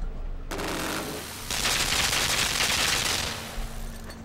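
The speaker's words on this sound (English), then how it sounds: "Ah. A machine gun." A machine gun in Limbo fires in a continuous harsh rattle, a dense stream of shots that grows brighter and louder midway before tapering off.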